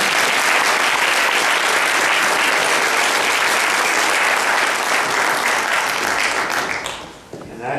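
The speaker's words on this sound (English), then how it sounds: "You may applaud." An audience at a debate on creationism claps loudly and continuously for about seven seconds, then the applause tails off near the end.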